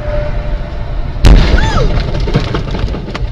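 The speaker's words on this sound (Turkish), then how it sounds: "Seyir halinde hiç lastiğiniz patladı mı?" A single sudden loud bang cuts through steady road rumble, followed by lingering noise and a brief high squeal, like a tire bursting while driving.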